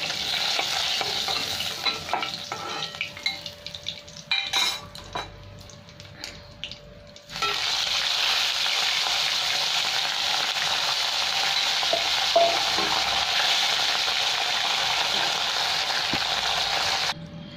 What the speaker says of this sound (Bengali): লাল লাল করে একটু ভেজে দিতে হবে মাছটা।